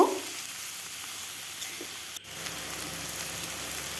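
Potatoes and shola kochu (giant taro stem) fry in a pan with a steady, close broadband sizzle that runs throughout, broken by one brief sharp stirring scrape midway; no voices.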